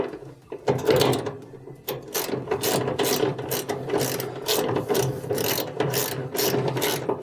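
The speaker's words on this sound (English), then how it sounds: "let's start to tighten it up here" Steady ratcheting clicks from tightening the idler pulley screw on a dryer, a rapid, rhythmic series of close mechanical clicks running throughout.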